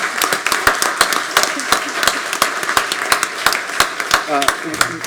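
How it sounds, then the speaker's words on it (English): A round of applause at a St. Cloud, Florida city council meeting, with sharp individual claps from a small room crowd going steadily for several seconds, a voice briefly audible near the end. "So if we could just give them a round of applause for their service."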